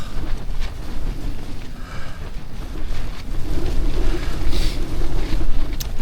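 Strong south wind gusting continuously at a winter wild camp by Angle Tarn in the Lake District, roaring loudly and buffeting the microphone for the whole stretch with no voices.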